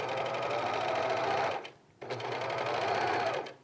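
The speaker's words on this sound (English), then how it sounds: "I'm going to stitch in this ribbon on the shoulders and around the neck when I get to it" Sewing machine stitching ribbon onto the shoulders and neckline of a track suit, running steadily in two close, loud bursts with a brief pause between them.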